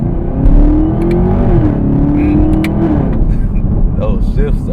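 A ZL1 Camaro with a 10-speed automatic pulls hard from inside the cabin, engine tone climbing then stepping down through quick shifts, loud and close, with a person talking over it.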